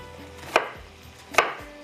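Two sharp knife chops on a cutting board, chillies and onions being cut, spaced just under a second apart and close by, with a faint low hum between strikes.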